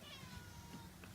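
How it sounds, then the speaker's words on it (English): A cat gives a drawn-out meow close by, one faint plaintive call lasting about a second. "There's Loki. The kitty cat"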